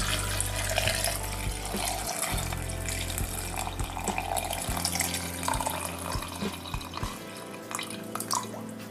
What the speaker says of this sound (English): Add about 2 cups of water.